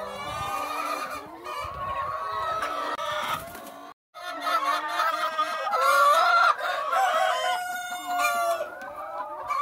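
Rooster crowing and hens clucking in a rural coop on a small farm, a dense, close chorus of overlapping crows and clucks with a brief pause midway, no speech.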